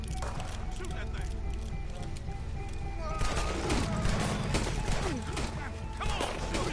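Gunfire in a PS4 video game, with volleys of rapid shots that grow denser in the second half amid clattering game noise, while a person talks throughout.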